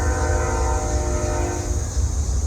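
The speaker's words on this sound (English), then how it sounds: "you can hear the train a-comin' just rolling around the bend" A train rolls steadily around a bend near an 1899 historic bridge, a loud continuous rumble of wheels and cars with sustained horn-like tones held throughout, alone without talk.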